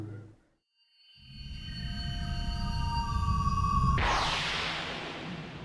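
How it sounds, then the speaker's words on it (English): A zapping sound effect in the Steins;Gate Elite video game: after a brief hush, a rising sci-fi tone swells with layered ringing pitches, then breaks into a bright, sustained electric hiss, with no speech. "Suddenly there's a zapping sound."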